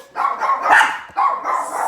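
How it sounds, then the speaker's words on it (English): Pet dogs bark indoors, close and loud, giving two bursts of rough barking with a brief pause between them. "I hope my dogs aren't going to bark."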